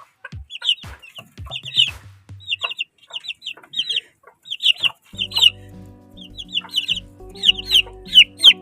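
Hens clucking and chicks peeping in quick, irregular bursts, close by, with a low hum joining partway through.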